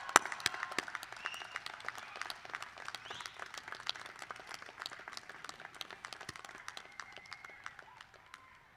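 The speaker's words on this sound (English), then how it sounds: "please give your family and loved ones a round of applause" Applause at a medical school graduation ceremony, a faint, distant spread of many hands clapping with scattered crisp individual claps, continuing steadily before slowly thinning out.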